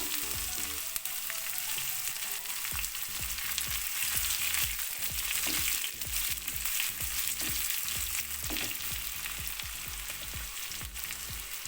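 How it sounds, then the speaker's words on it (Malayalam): Chopped shallots and popping mustard seeds fry in hot coconut oil, a dense, continuous sizzle with scattered crackles and pops, close and steady throughout with no talking. "ഒരു ടീസ്പൂണ് കടുക് ഇട്ട് കൊടുക്കുന്നു കടുക് പൊട്ടി വന്നിട്ടുണ്ട് കൊച്ചുള്ളി അരിഞ്ഞത്"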